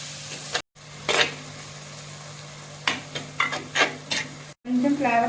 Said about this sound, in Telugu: చక్కగా వేసిన ఇంగ్రీడియంట్స్ అన్నీ కలుపుకోవాలి.